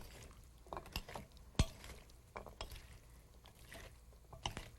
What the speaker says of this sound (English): And I'll mix all this up.